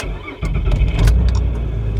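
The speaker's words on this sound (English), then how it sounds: "Similar to GM, start the engine." A 2007 Honda Odyssey with a misfire starts up: a brief quiet, then a crank and catch as the engine fires, settling into a loud, close idle.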